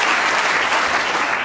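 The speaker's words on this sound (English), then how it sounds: "round of applause, because this has been truly a remarkable session of snooker." Crucible audience at a World Snooker Championship semi-final applauding both players after a session, a loud, dense and even wash of clapping throughout.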